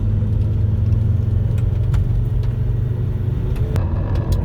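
A Volvo riding on cheap eBay coilovers rolls over train tracks, heard from inside the car as a loud, steady low road rumble with engine drone and a few faint knocks. No one speaks.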